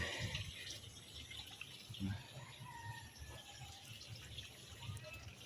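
Steady low rushing of water draining from a catfish tank toward a water spinach patch, continuous and moderately close, with faint trickling and splashing on top.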